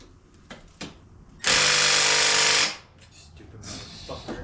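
A power tool whirs loudly for about a second while removing a bolt on the intercooler bracket of a Subaru, set between quieter clanks and shuffling; someone talks briefly before and after the burst.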